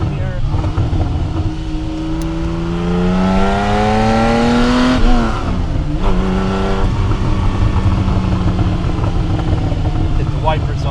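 Porsche 911SC coupe engine, loud and close, revving as it downshifts, with pitch climbing and then dropping through the gear change before holding a steady drone; someone talks over the engine.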